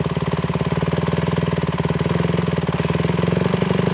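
A dirt bike engine runs close by at a rough, rapid idle, its steady pulsing thump rising slightly as more throttle is given toward the end.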